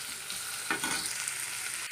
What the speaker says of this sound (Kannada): ಇವಾಗ ನೋಡಿ ನಮ್ಮದು ಈರುಳ್ಳಿ ಒಂಚೂರು ಫ್ರೈ ಆಗಿದೆ.